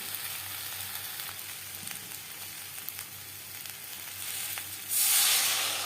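Spices fry in oil in a pan with a continuous close sizzle, a few faint stirring ticks, and the hiss swelling louder near the end.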